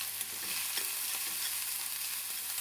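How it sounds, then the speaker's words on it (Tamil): Onions sizzle steadily in a hot pan, with soft stirring scrapes now and then, fairly quiet and without talk. "இப்போ இந்த வெங்காயத்தை கொஞ்சம் நல்லாவே வதக்கிக்கணும்."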